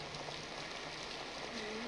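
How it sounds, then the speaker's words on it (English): Heavy rain pouring steadily, a dense, even hiss of downpour filling the scene without breaks and no voices over it. "It's raining really hard."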